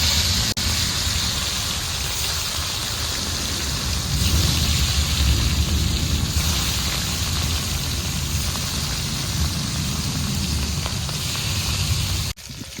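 Pieces of katla fish frying in hot oil give a steady, dense crackling sizzle that holds loud and even throughout, close by with no talking.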